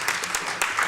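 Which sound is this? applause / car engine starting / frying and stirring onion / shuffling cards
applause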